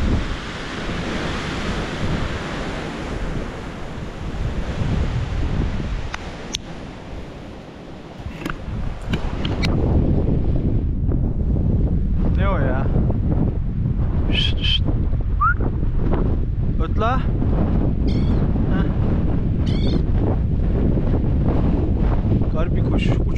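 Strong Patagonian wind roars and buffets the microphone in heavy, continuous gusts, close and loud, while voices talk intermittently beneath the blustering noise.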